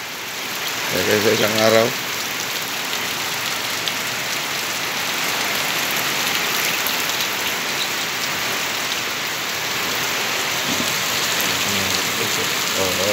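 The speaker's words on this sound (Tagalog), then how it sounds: "Pero maliwanag yung langit mga idol. Ayun, pero malakas-lakas yung ulan mga idol." Heavy rain pours steadily on a surface as a dense, loud wash under a bright sky, with a short burst of a voice near the start and another brief voice near the end.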